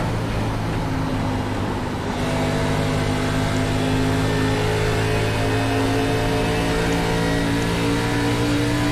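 A steady, droning race car engine in the iRacing ARCA Menards Series at Nashville holds a sustained, loud tone that shifts slightly in pitch as it keeps running, with no talk over it.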